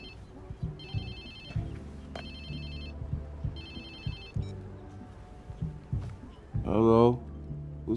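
A phone rings in the video game Watch Dogs 2, with repeated electronic ring bursts under a low music and ambience bed, ending in a brief louder sweep.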